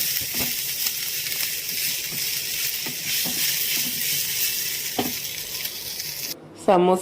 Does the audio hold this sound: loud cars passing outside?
no